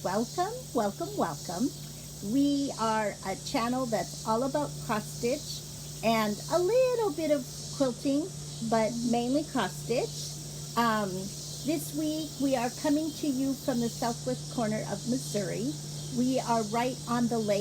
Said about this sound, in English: there's also a lot of cicadas and katydids chirping.